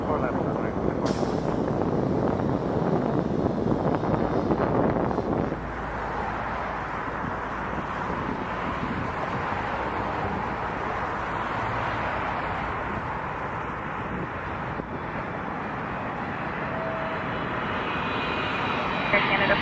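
An airliner rolls out along the runway after landing at Toronto Pearson Airport, a steady broadband engine roar and rumble holding through the whole stretch, with voices talking over it.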